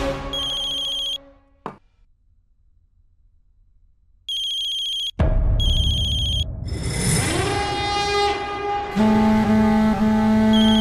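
A phone ringtone plays in repeated bursts separated by silence, then a melodic ringtone sounds loudly over a busier background.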